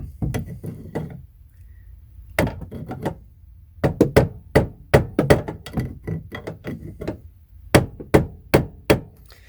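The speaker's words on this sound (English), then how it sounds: "I'm going to take my screwdriver and I'm just going to tap it." A screwdriver taps against a metal knockout in an electrical box while a dedicated circuit is being installed. Sharp, close metallic knocks come in a few short bursts, scattered at first and then quicker.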